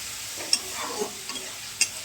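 Turmeric, chili powder and tomato masala for tilapia curry sautéing in a pan, a soft steady sizzle broken by a few sharp clinks of a spatula scraping and stirring, fairly quiet and close with no talking.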